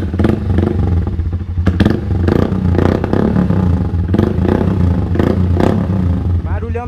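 A 160cc motorcycle fitted with a 600cc motorcycle exhaust and small internal baffle rumbles with a deep, steady idle, punctuated by a few sharper bursts and clatter, while a person talks over it.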